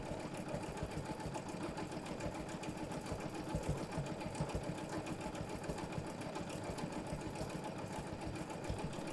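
A Janome sewing machine stitching free motion quilting runs in a continuous rapid mechanical hum and needle chatter, steady and close throughout, without speech.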